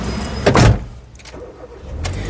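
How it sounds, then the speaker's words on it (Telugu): A 2013 Hyundai i10 Magna car engine cranks and starts with a single press of the starter, giving a short loud burst followed by a steady low idle inside the car. "ఈ కారు సింగిల్ సెల్ఫ్లో స్టార్ట్ అవుతుందా లేదా అన్న చూపిస్తున్నాను"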